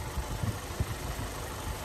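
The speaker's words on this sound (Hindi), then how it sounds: "ये CRDI डीजल इंजन है" A Kia Carens 1.5 CRDI diesel engine idles with a steady low rumble and faint irregular knocks, fairly even in loudness and with no voices over it.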